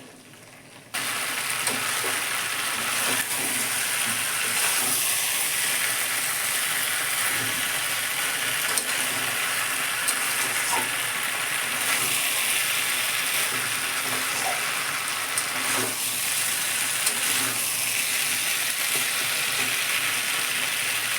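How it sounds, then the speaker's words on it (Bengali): Jackfruit and potatoes fry with spices in a pan, giving a constant close sizzle with occasional scraping and stirring clicks throughout. "এবারে আমি কাঁঠালটা আর আলুটা যে ভেজে রেখেছিলাম দিয়ে দেব একটু মশলার সঙ্গে আবার কষে নেবো"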